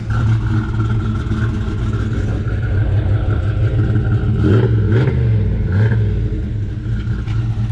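A turbocharged Ford Fox-body Mustang with full exhaust idles with a steady low exhaust rumble, a few gentle revs rising and falling over a continuous droning background.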